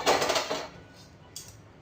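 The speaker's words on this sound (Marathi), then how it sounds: "मी कढई बाजूला करते" A metal kadhai frying pan is shifted aside on a gas stove, producing a short clattering scrape followed by a faint metallic clink.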